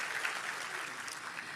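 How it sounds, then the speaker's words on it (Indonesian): Church congregation applauding during an Indonesian sermon, a steady wash of many hands clapping that holds evenly throughout, moderately loud and with no voice over it. "Tepuk tangan bagi jemaat yang dewasa."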